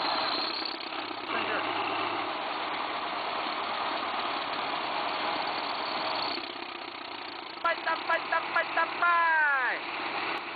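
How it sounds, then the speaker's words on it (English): A K700 wheeled bulldozer's engine idles with a steady low rumble while rescuing a tractor stuck in mud, then revs in short bursts near the end, with voices speaking over it. "with the help of a bulldozer K700, the tractor was quickly rescued from the mud"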